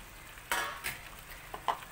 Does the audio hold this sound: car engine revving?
no